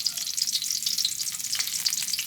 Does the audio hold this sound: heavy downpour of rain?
no